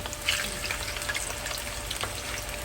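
Green plantain pieces fry in hot oil in a pot with a steady, dense sizzle and crackle, close by, with small pops throughout.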